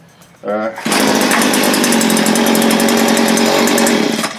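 Stihl pole saw engine starting and then running: a brief pull-start sputter, then a loud, close, buzzing two-stroke idle with a rapid rattling pulse that holds steady for several seconds before easing slightly.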